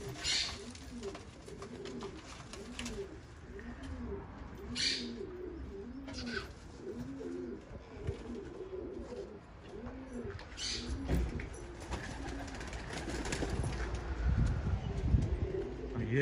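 Pigeons cooing repeatedly in soft rolling phrases, close by, with occasional sharp knocks and rustling in the background; partridges are kept nearby.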